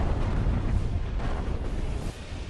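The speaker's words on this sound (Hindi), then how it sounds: "और फिर तेज धमाकों से पूरा इलाका दहल जाता है" Loud explosions in a war zone during the Russia-Ukraine war, heard as a continuous heavy rumbling roar of blasts that fills the whole clip, dense and booming with no clear gaps and no talk.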